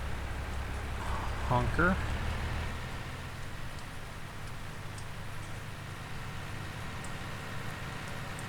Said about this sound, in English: Got a nice rain going.